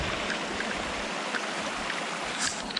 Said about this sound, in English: Just a beautiful creek, though.